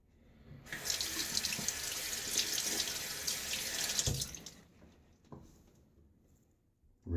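Tap water runs steadily into a sink to rinse a shaving soap tub, a loud continuous splashing stream for about four seconds before it cuts off, leaving faint drips and small knocks.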